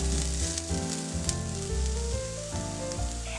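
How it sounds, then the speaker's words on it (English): Chopped onion and garlic sautéing in vegetable oil over low heat, a soft continuous sizzle and crackle close by, with no one talking. "Let's finely chop an onion and sauté it in vegetable oil over low heat until translucent."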